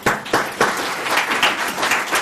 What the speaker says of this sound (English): Could you give Bob a round of applause?